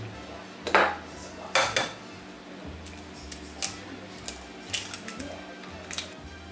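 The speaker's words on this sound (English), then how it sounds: "add half a teaspoon of vanilla and 1 egg and mix that around" Vanilla and an egg are mixed in a bowl, producing sharp clinks and scrapes of a utensil against the dish, a couple of louder knocks early then lighter taps, with no talking.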